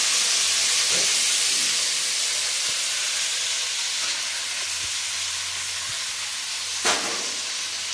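Mint leaves fry in hot oil in a pan, giving a steady, loud hiss throughout with a couple of brief clinks near the end and no talk.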